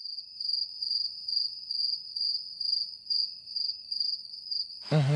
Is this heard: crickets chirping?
yes